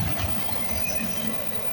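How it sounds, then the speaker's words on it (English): A CSX intermodal freight train rolling past, heading south from Walbridge, Ohio, to Louisville, Kentucky, heard as a continuous close, loud rumbling roar of wheels and cars with no break. "The symbol for this train is the CSX I141 coming from Walbridge, Ohio, heading south to Louisville, Kentucky."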